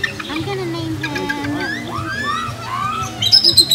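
Loud bird calls from an eagle at a zoo pond, with repeated chirping and squawking cries that rise and fall over a few seconds, heard nearby while people talk over them.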